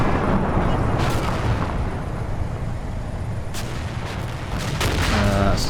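Heavy tank cannon and gunfire in the Cold War wargame Combat Mission: Cold War, a dense rumbling barrage with several sharp bursts standing out, loud and continuous throughout.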